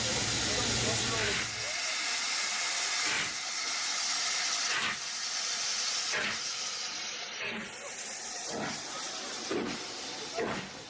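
Loud, continuous steam hissing dominates, with a broad rushing roar and repeated puffs or bursts, like a steam locomotive venting close by.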